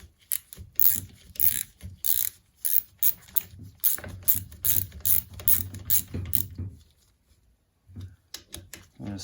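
A CR250 two-stroke gearbox shift shaft is worked through its positions on the bench, giving a run of sharp metallic clicks and ratcheting clacks close up, then a pause and a few more clicks at the end.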